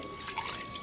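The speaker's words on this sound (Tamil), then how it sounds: "இதில் நல்லா கொஞ்சம் தண்ணி சேர்த்து" Water splashes and trickles steadily into a cooking pot of curry for a brief moment, close by.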